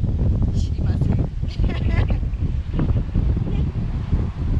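Strong wind buffets the microphone outdoors before a Border Collie's summer-cut grooming session, a loud continuous rumbling gust noise with bursts of talk riding over it throughout.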